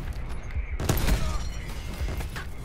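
Call of Duty Black Ops 4 gunfire aimed at a UAV, a scatter of sharp shots and bursts mixed with game effects, fairly close, with a voice speaking briefly underneath.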